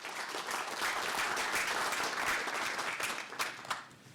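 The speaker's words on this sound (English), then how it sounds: "Would you join me in giving some applause to our sponsors?" A lecture audience gives sustained applause for the sponsors of an annual history lecture, full and continuous, then thinning toward the end with a few last scattered claps.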